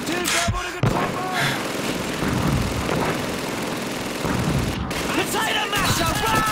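Grenade blasts and heavy gunfire in a WWII British battle at El Alamein, 1942, in a video game: a dense, continuous roar of shots and bursts, loud and close throughout, with sharper cracks near the start and middle.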